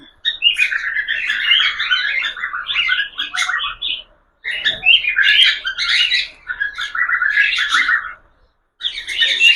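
A female budgerigar held in the hand chirps loudly and close by, in rapid chattering bursts with two short pauses between them.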